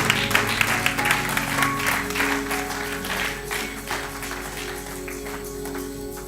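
Congregation clapping together during a church service, a dense steady patter of many hands with some crowd voices and a low musical drone underneath, fading slightly toward the end.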